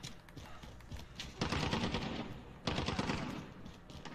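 Rapid automatic gunfire from a first-person shooter game, Modern Warfare or Apex Legends, comes in dense loud bursts, two long sustained volleys separated by shorter rattling shots, with no speech.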